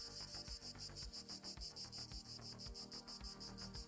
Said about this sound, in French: Son de cigale